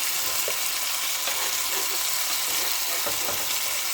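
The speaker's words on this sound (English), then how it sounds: "we want it to get a good, nice sear to seal in those flavors" Food sizzles steadily in a hot pan on a stovetop while pastries are being made, a continuous bright frying hiss with a few soft clinks and stirring knocks, close and without talk.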